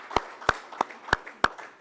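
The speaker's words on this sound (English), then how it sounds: "I think we owe you a round of applause." Applause at a 15th anniversary event, heard as five sparse, evenly spaced claps ringing out one after another, close and distinct over a quiet room.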